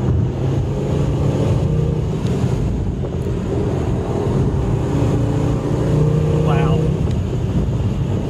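An Audi RS3 engine pulls hard in fourth gear on a mountain road, a steady loud roar heard from inside the car and blended with heavy wind rush, holding constant throughout.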